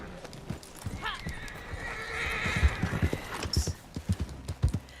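A horse in Red Dead Redemption 2 lets out a loud neigh, then gallops off with rapid, heavy hoofbeats growing stronger toward the end of the short burst.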